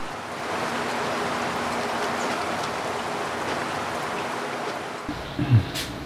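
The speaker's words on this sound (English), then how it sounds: "It's pouring outside." Heavy rain pours outside during a storm as a steady, dense hiss holding constant for several seconds, then cuts off near the end when a brief faint voice-like sound comes in.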